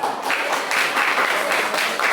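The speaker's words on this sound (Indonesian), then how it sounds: "Tepuk tangan." An audience applauding in a classroom-style session, a short burst of many hands clapping in a steady, slightly pulsing rhythm, close and clear without talk.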